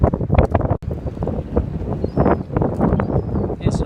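Gusty wind on the Thames foreshore at low tide in windy, rainy weather, buffeting the microphone with loud, uneven rumbling bursts throughout.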